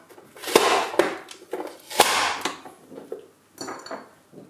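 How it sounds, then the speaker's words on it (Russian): An onion is rubbed over a fine grater in a kitchen, producing a series of loud, irregular scraping strokes with sharp clattering peaks, close and alone. "Единственное, что я беру на мелкую терку, это лук."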